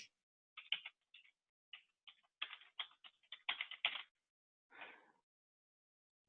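Typing on a computer keyboard, close and quiet: irregular clusters of light key clicks with short pauses between bursts, alone without talk.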